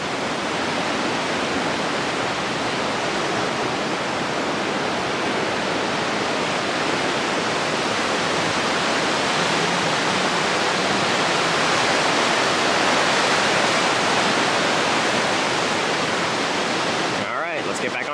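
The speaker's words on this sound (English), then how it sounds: "The water definitely looks less torrential than it did yesterday when it was raining, but you can see it's still over flooded the banks a little bit" Rushing water from a rain-swollen mountain stream overflowing its banks on the Appalachian Trail, a loud, steady broadband roar filling the whole stretch without pause.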